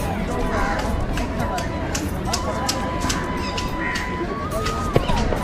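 Throngs of Saturday visitors at Belur Math fill the air with loud, continuous babble and chatter, mixed with footsteps and scattered nearby voices, plus a brief sharp knock near the end.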